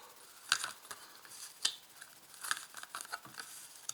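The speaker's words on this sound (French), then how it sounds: "je vais mettre 5 cartes pour voir un petit peu" Tarot cards being laid out one by one for a reading, giving a few crisp papery snaps and soft slides at close range with no talking.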